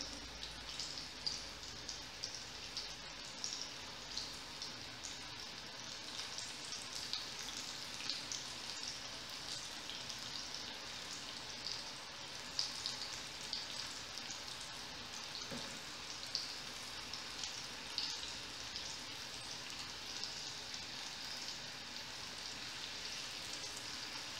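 Sweet potato and shredded codfish croquettes frying in very hot oil, a continuous soft crackle and patter of tiny bursting bubbles, fairly faint and steady throughout.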